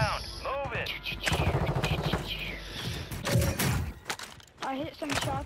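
Bursts of gunfire and mechanical clatter in Call of Duty come in several rapid volleys, with players chattering over the shots.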